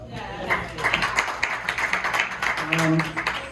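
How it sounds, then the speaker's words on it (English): Audience at a Transgender Remembrance Day tribute clapping in applause, a moderate, somewhat distant patter of hands with a voice speaking over it. "Give them a round of applause."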